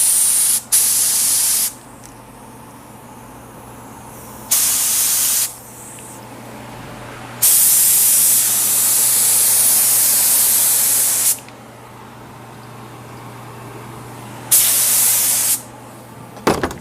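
A spray gun shoots Hydrogator hydrographic activator at about 17 psi in a series of loud hissing bursts, some short and some several seconds long, separated by quiet pauses.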